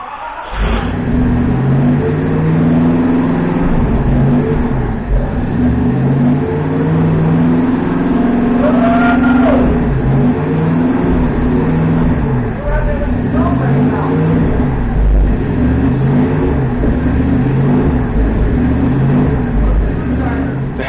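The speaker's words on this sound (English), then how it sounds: "this is the longest that the engine ran on the old carburetor, where I was heavily feathering the choke just to keep it running" A 1965 Dodge D100 pickup's 331 HEMI V8 on its old carburetor runs rough and loud for the whole stretch, idling unevenly with the choke feathered and brief revs in the middle, exhaling through Flowmaster mufflers; a voice talks over it.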